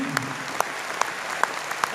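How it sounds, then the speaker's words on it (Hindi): Seminar audience clapping together in a hall, a dense, even patter of applause with a few sharp individual claps standing out. "आप हाथ ऊपर करके तालियां बजा सकते हैं, जोरदार तालियों की गड़गड़ाहट के बीच में।"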